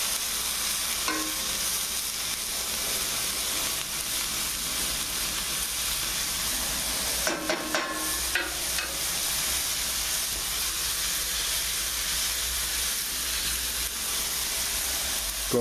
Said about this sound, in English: the sizzling kind of stopped